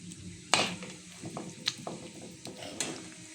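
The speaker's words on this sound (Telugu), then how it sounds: "ఇప్పుడు దీన్ని కలుపుకోవాలి నీట్గా" Homemade tomato pickle being mixed by hand in a pot, a few scraping stirs and soft clacks of a spoon against the vessel, close and fairly quiet, with no talking.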